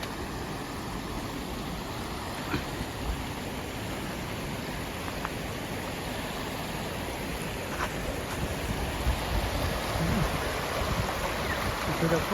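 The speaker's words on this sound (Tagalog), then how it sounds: "Ito na po ang Malibig-libig Falls." Malibic-Libic Falls in Cavite, with a constant broadband roar of falling water close by, steady and dense throughout and slightly louder near the end.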